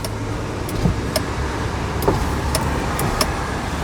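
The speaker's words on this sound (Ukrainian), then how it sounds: "склопідіймачі у нас мають доводчики" Power windows on a 2019 Kia Niro electric car, a soft continuous motor hum inside the cabin with a few light clicks and taps scattered over nearly four seconds, no talking.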